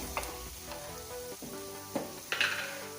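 Curry leaves dropped into hot oil for a prawn ghee roast, a soft steady sizzle with a few sharp crackles and stirring taps, close but fairly quiet, no voices.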